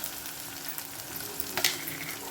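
Salted onions fry in a pan for a drumstick-flower stir-fry, a steady close sizzle with light scraping and one brief sharper clink near the end, no voices.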